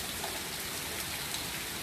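Heavy rain pours down steadily on a stormy day, a dense, unbroken hiss of drops close by with no pauses.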